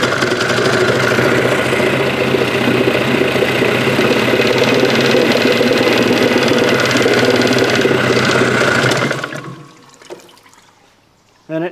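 A Mercury outboard boat engine idles steadily and loudly for several seconds, then dies abruptly, leaving near silence broken by a couple of faint knocks.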